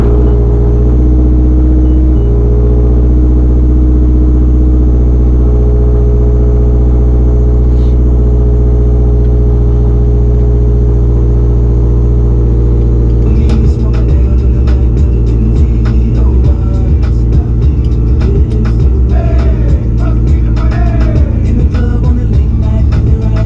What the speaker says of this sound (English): We're gonna let the car warm up and head off to work.